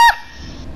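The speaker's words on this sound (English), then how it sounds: "you turned into a fucking goose?" A single loud, sharp goose honk from the video game Call of Duty Remastered, cut off abruptly and followed by quiet game background.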